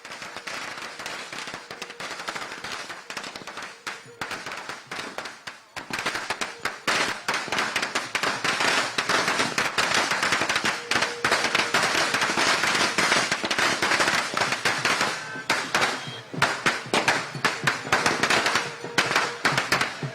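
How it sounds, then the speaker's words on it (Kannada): Firecrackers go off in a celebration over Haryana election results, a rapid rattling string of sharp cracks and pops that starts sparse, then bursts into a dense, loud barrage lasting well over ten seconds. "ಪಟಾಕಿ ಸಿಡಿಸಿ ಸಿಹಿ ಹಂಚುತ್ತಿದ್ದಾರೆ."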